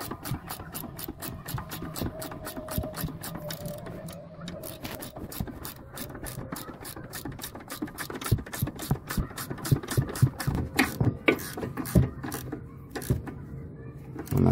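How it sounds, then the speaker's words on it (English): Spanner ratcheting in a steady run of sharp metallic clicks while tightening an anti-roll bar link bolt on a VW Polo, close up, growing louder and denser toward the end. "So just get the spanner underneath and start tightening"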